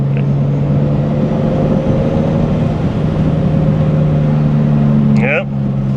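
A BMW E60 cruising under normal driving gives a steady, loud engine and road drone with a constant low hum, while someone talks over it.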